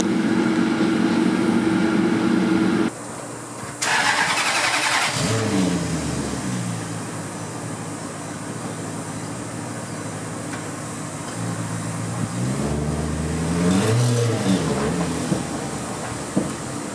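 A Maserati Quattroporte engine cranks and fires up, then revs repeatedly, the pitch sweeping up and falling back in several bursts over a loud steady idle, close and without talk.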